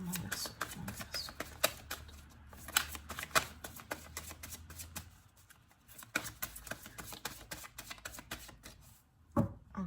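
Oracle cards are shuffled by hand for a reading, giving rapid, crisp riffling and flicking bursts that run in quick flurries with brief pauses between them. The sound is close and fairly quiet, with no talking.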